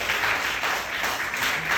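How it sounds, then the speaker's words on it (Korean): An audience claps in a church during a young adults' worship service, a steady wash of applause filling the short stretch at moderate level with no clear voices. "박수 한번 보여주세요. 박수."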